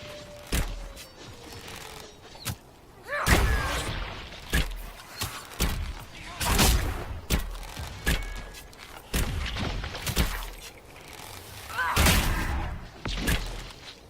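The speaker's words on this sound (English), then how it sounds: "Just explosions everywhere." Explosions keep going off during a Dragon Age Inquisition battle against Red Templars at High Grove: repeated loud booms and thuds arriving in irregular bursts, some close together, with clashing game effects between them.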